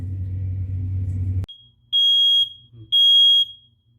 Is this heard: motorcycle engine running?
no